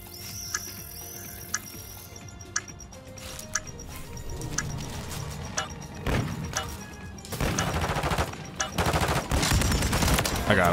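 Automatic gunfire from a modified LMG in a shooter video game: scattered single shots early, then dense rapid bursts growing louder and sustained toward the end, with game ambience and some voice underneath.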